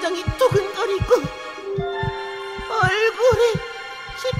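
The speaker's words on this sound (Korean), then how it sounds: "심장이 두근거리고" A cartoon heartbeat effect thumps in a steady, evenly spaced pulse through the whole stretch, playing beneath a voice and tonal background sound.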